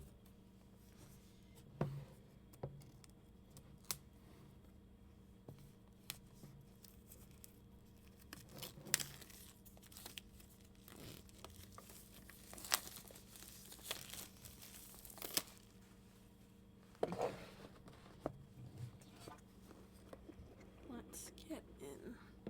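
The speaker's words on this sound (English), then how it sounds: "Just going to cut this plastic" Plastic wrap on a big subscription box gets cut and pulled away, scattered crinkling, tearing and sharp rustles spread irregularly across the stretch, fairly faint and close, with occasional soft talking.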